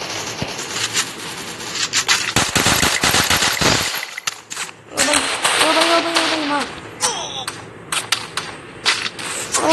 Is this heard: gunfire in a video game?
yes